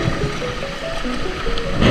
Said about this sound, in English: that was the waterfall you see